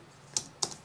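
Two crisp keystrokes on a computer keyboard, close and clear, a short gap between them, typed alone with no voices.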